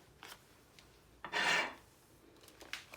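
A vinyl sticker is peeled off a Dollar Tree bottle-cap sign in one short tearing rip, close, with a few light taps and handling noises before and after.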